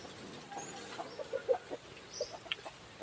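Soft, scattered clucks from a few chickens on temple grounds in Lampang, Thailand, faint against a low background hiss, with short bursts spread unevenly across the moment.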